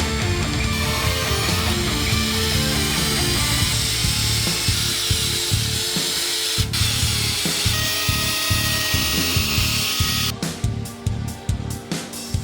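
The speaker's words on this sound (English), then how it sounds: "drilled out the holes just enough to let the head of the screws sit flush with the body of the guitar" A power drill bit bores out screw holes in a wooden guitar body, a grinding whir in short repeated bursts with a steady motor hum, the bursts becoming choppier near the end.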